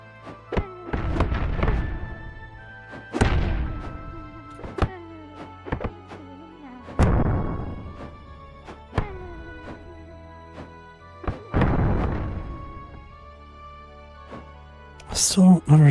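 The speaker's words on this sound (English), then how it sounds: "Oh yes, explosion." Explosions in a video game under development: a series of heavy, booming thuds with long decaying rumbles, five or so spaced a few seconds apart, with sharper clicks and knocks between them.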